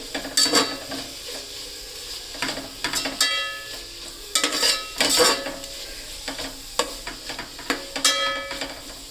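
Biryani masala frying in a pan with repeated stirring, a continuous sizzle broken by sharp clanking scrapes of a spoon against metal at irregular intervals, loud and close.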